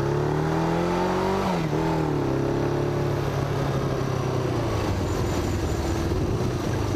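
A Yamaha XJ600 motorcycle engine, its carburetors freshly tuned, revs up and settles in a steady loud drone, with a brief dip and rise in pitch near the start and a low rumbling idle after.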